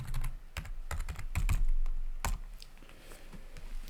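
Typing on a computer keyboard at a desk, a run of sharp close key taps in irregular bursts with a few brief pauses, steady and fairly loud with no talking.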